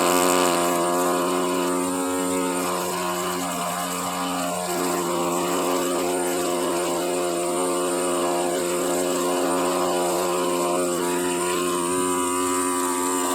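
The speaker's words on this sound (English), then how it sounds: "If this scribe was turned down anymore, it would probably just stop. That's how low I've got it." A pneumatic air scribe turned down to its lowest setting chips matrix from a fossil crab from the Pacific Northwest, giving a steady, close, high-pitched buzzing whine with no break throughout.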